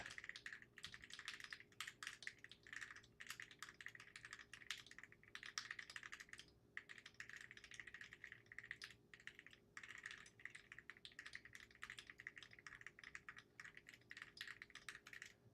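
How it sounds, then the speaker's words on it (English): Rapid, continuous typing on a Keychron Q8 Pro mechanical keyboard during a speed-typing test, dense clattering keystrokes close up with a few brief pauses, and no voices. "105 words per minute on my mechanical keyboard, specifically the Keychron Q8 Pro"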